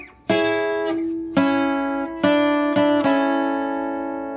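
Plucked guitar notes forming a short melody, four distinct attacks with ringing sustain, played alone and close.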